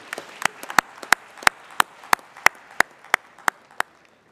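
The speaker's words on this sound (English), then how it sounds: "And she can also have applause actually." Delegates at a trade union world congress plenary session clap in a slow, evenly spaced rhythm, about a dozen sharp hand claps standing out over a soft background of scattered clapping.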